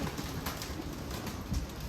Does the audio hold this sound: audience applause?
no